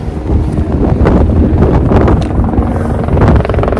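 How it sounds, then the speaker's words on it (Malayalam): A helicopter approaching along the Everest Base Camp trail near a helipad in the Himalayas, a steady loud low rotor drone mixed with wind buffeting the microphone. "ഹെലികോപ്റ്റർ വരുന്നുണ്ട്"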